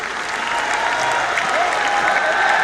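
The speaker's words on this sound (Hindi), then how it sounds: "आइए जोरदार तालियों से हम आमंत्रित करें आदरणीय श्री मोहन जी भागवत को।" An audience bursts into loud, sustained applause to welcome a speaker at a gathering, a dense crowd of clapping that holds steady and swells slightly over a few seconds.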